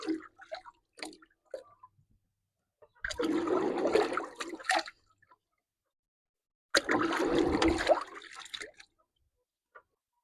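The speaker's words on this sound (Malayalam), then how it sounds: "അതാ ഒക്കെ കഴുകി എടുത്ത് കൊടുക്കുന്നുണ്ട്." Fresh turmeric being washed in water: two longer bursts of sloshing and splashing, with scattered drips and small trickles before and after, close by and without speech.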